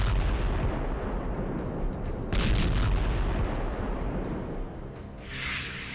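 Distant artillery-style booms and blasts from Russian S-300 missile strikes on Ukraine, a dense rumbling roar throughout with a sharper burst near the middle and a fading hiss toward the end, no voices.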